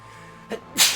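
Two sneezes from a person in a quiet room: a short one midway, then a louder, sharper burst near the end.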